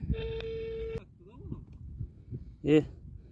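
A telephone plays a call tone while dialing out: one steady electronic tone lasting about a second, then near-quiet with faint background noise and a brief voice at the end.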